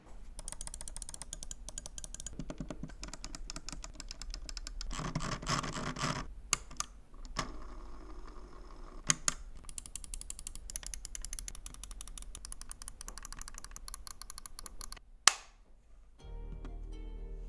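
Rapid, crisp Logitech G502 Proteus Core mouse button clicks close to the microphone, clustered in quick bursts and steady runs with brief pauses between them.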